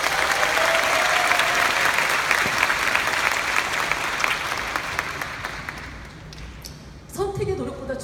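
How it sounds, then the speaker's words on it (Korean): Audience applause fills a business seminar hall for a Nu Skin Ageloc Youthspan presentation, loud and steady for several seconds before tapering off, then a voice starts speaking. "이곳에 좋은 분으로 초대해 주신 여러분을 위해서 박수 한번 치고 진행해 볼까요?"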